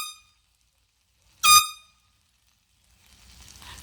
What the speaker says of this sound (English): I got this air horn